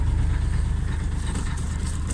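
Kubota 25 hp three-cylinder inboard boat engine, fitted in a boat and running after two months idle, holding a steady, low, throbbing idle with no voices.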